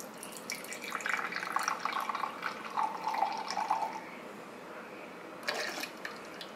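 Espresso trickling and dripping into cups, a soft, steady liquid pour lasting several seconds that thins out, then a brief renewed splash near the end.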